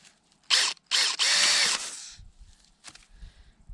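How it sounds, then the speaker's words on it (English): A power drill bores a hole in a water pipe near a tap on an off-grid homestead in central Portugal: three close, loud whining bursts, the last one longest, followed by faint low rumbling and handling noise. "So I brought the pipe back closer to the tap so I can drill a hole"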